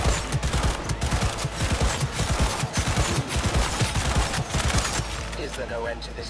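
Automatic gunfire in the video game Cyberpunk 2077, a loud rapid stream of shots with dense rhythmic bursts that fade slightly at the end.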